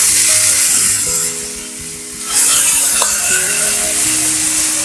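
Raw chicken pieces hit a hot pan with a loud, steady sizzle and frying crackle, dipping briefly in the middle before surging again with stirring scrapes, no voices heard.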